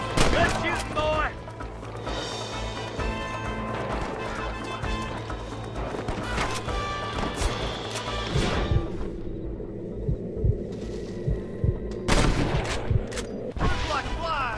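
Gunfire in Red Dead Redemption on Xbox One X, with sharp shots cracking out among galloping hooves and game dialogue, denser early on and sparser later.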